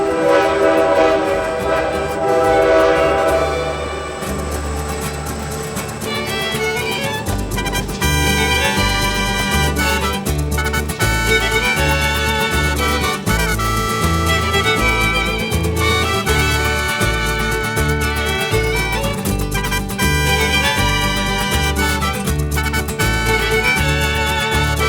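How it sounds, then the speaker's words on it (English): A diesel train rumbles through a confined tunnel on the Copper Canyon railway, with a loud sustained engine drone, a horn-like tone, and rhythmic wheel clicks echoing off the walls throughout. "The sound of the diesel and the click of the wheels reverberate through these claustrophobic monuments"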